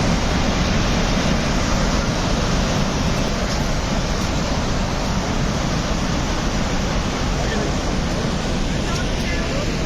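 Loud, steady roar of the Saraswati river rushing nearby in the high Himalayas near Swargarohini, a dense broadband wash of water that holds constant throughout with no breaks.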